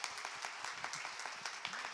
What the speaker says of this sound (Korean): 큰 박수로 격려의 박수